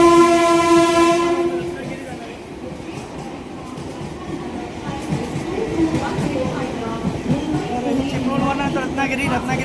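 At Thane station, the Tejas Express 22119 arrives with a long, loud horn blast, followed by the steady rumble and clatter of carriages rolling past, with a background murmur of people on the platform.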